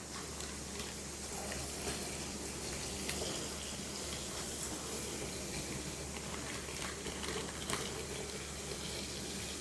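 Milk being poured into a pot, a steady rushing liquid stream running for about ten seconds, close and continuous with a low background hum.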